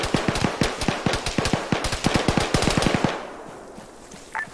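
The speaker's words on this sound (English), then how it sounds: "I'm pretty sure they started shooting at Artemis." Rapid automatic gunfire rattles in close, steady bursts for about three seconds during an Arma 3 squad mission, then fades into faint background ambience.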